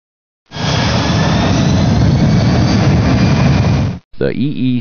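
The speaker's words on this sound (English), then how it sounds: "The EEC now sets maximum reverse thrust." Boeing 737NG jet engine at maximum reverse thrust, a loud continuous broadband roar with a whine on top that cuts off abruptly, followed by a brief burst of talk.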